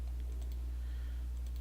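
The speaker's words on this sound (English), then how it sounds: "Good thing I don't type into my keyboard too terribly often." Keys tapped on a computer keyboard in a quiet home setup, a soft, faint run of light clicks over steady low hum, no voices.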